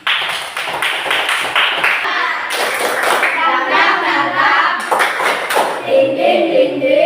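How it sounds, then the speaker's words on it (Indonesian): Classroom of children clapping hands for a student, bursts of rhythmic clapping mixed with children's voices chanting and talking close by. "tepuk tangan untuk Baby"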